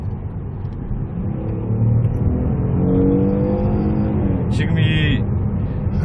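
A Hyundai Grandeur IG 3.3 engine hums steadily, then swells in pitch and volume as it accelerates to about 90-100 km/h, with someone speaking briefly over the rising drone.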